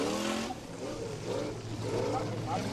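A formula offroad car at an Icelandic Formula Offroad event in Egilsstadir races up a steep hill, its engine loud and close, pitch rising and falling in surging revs while a commentator talks over it.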